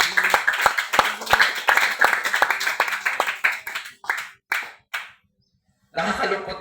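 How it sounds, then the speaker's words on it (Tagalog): Congregation in a church clapping in unison, sharp rhythmic claps at a steady quick beat that grow ragged and thin out into a few scattered claps, a pause, then a renewed burst of applause. "Yan lang ba kayo, yung palakpak na kayang ibigay sa Panginoon"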